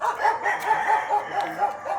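Chickens cluck and chatter in a rapid, continuous stream nearby, with a rooster-like crowing quality to some of the calls.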